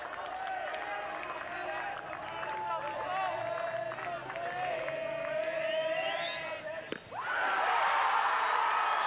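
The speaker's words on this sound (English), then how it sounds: "Teutopolis fans are going to be cheering every pitch the rest of the way" Teutopolis fans cheer in the stands during a high school baseball championship game, a loud, sustained crowd roar of shouts and whistles with a brief dip before it swells again, a commentator talking over it.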